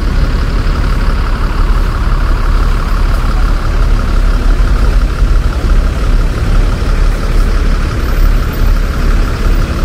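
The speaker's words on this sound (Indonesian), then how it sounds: "Ini bis dengan bodi SR2 Panorama Karoseri Laksana ya." A bus with a Laksana SR2 Panorama body sits parked at a bus terminal, its engine idling in a steady, dense low rumble for the whole stretch, close by and without talk.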